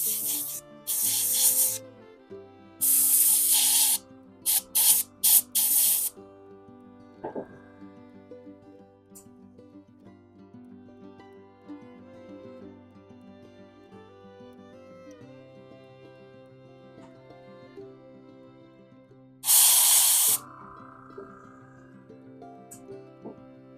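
Spray painting a base coat onto a wolverine rug: several short, loud hissing bursts of spray over quiet background music, with a long gap before a final burst.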